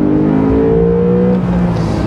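Porsche 911 991 Carrera T with manual gearbox pulling in first gear, a loud steady flat-six engine drone with rising harmonic pitch close by, easing slightly near the end, no talking.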